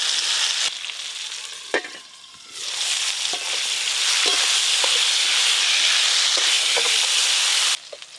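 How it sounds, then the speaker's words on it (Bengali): Bitter gourd pieces frying in oil, a steady loud hiss and sizzle with occasional stirring knocks, close and without talk. "করলাগুলো এই যে এরকম সুন্দরভাবে লাল লাল করে ভেজে নিয়েছি"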